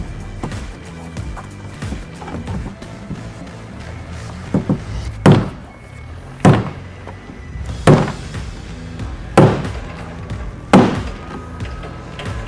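A fuel tank fitting is struck onto its receiving teeth during a 47-gallon tank install on a 2019-22 Mercedes Sprinter van, giving six sharp, evenly spaced hits, loud and close, over faint background noise.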